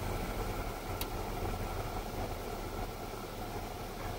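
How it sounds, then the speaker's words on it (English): Older rooftop cooling towers and generators at a mall running in a steady, dense mechanical roar, a continuous hum and whoosh with no breaks. "these are just more big-ass, but older cooling towers and generators"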